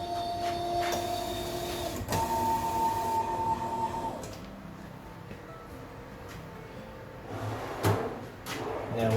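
DTG pretreatment machine spraying pretreat onto a t-shirt: a steady mechanical whir and hum with a sharp clack near the start and sliding, clunking movements, moderately quiet and without talk.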